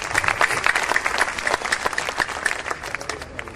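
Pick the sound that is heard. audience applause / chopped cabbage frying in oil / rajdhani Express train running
audience applause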